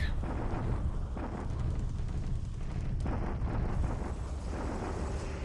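Bombardment in the strategy game War in the Pacific: a dense, rumbling wall of low booming explosions, continuous and loud, with a sharper crack near the middle.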